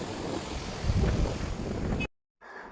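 Water rushes through the Kosi Barrage at Ramnagar, Uttarakhand, as a loud, steady roar mixed with wind buffeting the microphone, cut by a brief dropout to silence before it resumes more faintly.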